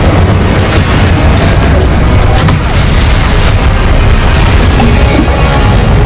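A Confringo blasting spell in the Hogwarts Legacy video game, heard as a dense, loud wall of booming explosions and rumbling blasts that runs steadily with no quiet gaps.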